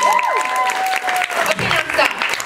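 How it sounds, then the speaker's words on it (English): A college audience claps for the event organizer at a comedy show, with a short burst of applause mixed with voices and a whoop. "Stop clapping."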